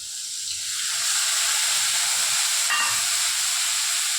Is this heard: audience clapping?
no